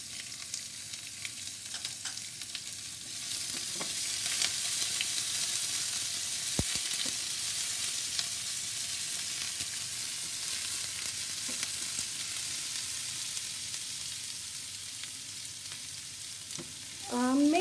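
Chopped onion hits a hot pan and fries, a broad hissing sizzle that swells after a few seconds and holds steady, with occasional utensil taps and a brief clatter near the end.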